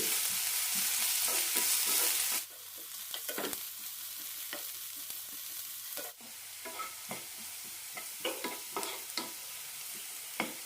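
Onions sauté in a pan for a mushroom stir fry: a bright sizzle at first, then quieter frying with a series of distinct scraping stirs and spatula knocks at irregular intervals, close by and with no speech.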